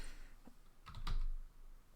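Typing on a computer keyboard comes through as a few faint, sparse key clicks with a slightly louder cluster near the middle, heard alone in a quiet room.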